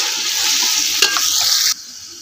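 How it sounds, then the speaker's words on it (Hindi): Onion, tomato and chili masala frying and being stirred in a pan, with a steady close sizzle and one scraping clatter midway before the hiss abruptly drops away near the end. "टमाटर मिर्चा अच्छी तरह फ्राई कर दी"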